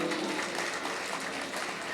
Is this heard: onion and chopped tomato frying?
no